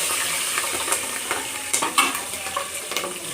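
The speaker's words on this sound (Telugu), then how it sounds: "పచ్చిమిరపకాయలు వేసుకున్నాం వేయించుకోవడానికి." Green chilies frying in hot oil for tomato rice, a continuous close sizzle broken by crackles, pops and scraping stirs, with no talking.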